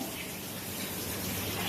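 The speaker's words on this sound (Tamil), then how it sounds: "வந்துட்டு தண்ணியில் வாஷ் பண்ணணும்" Onions being rinsed in water while cooking chicken biryani, a steady gushing, splashing wash like running tap water filling a vessel, continuous and fairly close with no talk.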